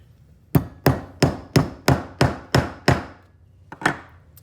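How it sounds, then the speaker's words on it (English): Household hammer striking a metal rivet set into leather: eight sharp, evenly paced blows close up, then a short pause and two more taps. "start with medium to light hits, and as I start to see the rivet set down, I'm going to hit it a couple more times a little bit harder."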